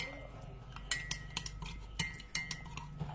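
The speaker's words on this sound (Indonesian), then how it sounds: "Madunya kita tuangkan 1 sendok lagi." A spoon clinks against a glass or cup as honey is measured into a homemade herbal cough mixture, a few faint, sharp metallic taps spaced irregularly in a quiet room.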